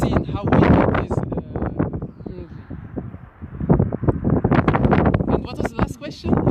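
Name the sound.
strong wind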